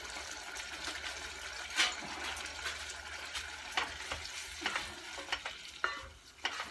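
Steak with tomato, garlic, bacon, snow peas and broccolini sizzles steadily in a cast iron pan while a utensil stirs it in quick, close scraping strokes over the constant frying hiss.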